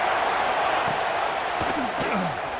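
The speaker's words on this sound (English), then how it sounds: "Here comes the noise from this big crowd in Happy Valley on third down." A big stadium crowd in Happy Valley roars on third down in the College Football 26 video game, a dense, loud, continuous wash of crowd noise with a few faint sharp knocks underneath.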